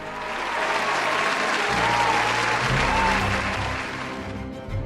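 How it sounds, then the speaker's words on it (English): An audience at a school event in St. Stephen's School, Dahod, applauds as a guest walks onto the stage, steady sustained clapping from many hands lasting the whole stretch with a faint low rumble beneath. "Please give a big round of applause for her."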